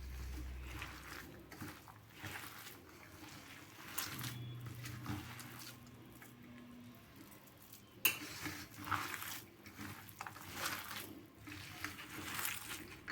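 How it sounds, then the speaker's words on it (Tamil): Bare hands knead a bottle gourd kola ball mixture in a bowl, making quiet, irregular squishing and mixing sounds. A few soft utensil clinks come through nearby. "இதெல்லாம் ஒன்றா சேர்த்து பசஞ்சு எடுக்க வேண்டியதுதான்"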